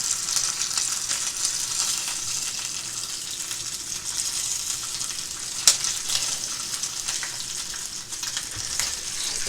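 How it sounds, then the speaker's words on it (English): Fat bacon frying in its own grease, a loud, close, continuous sizzle and crackle with constant spitting pops and one sharper crack, heard alone without talk. "Get your fat bacon going"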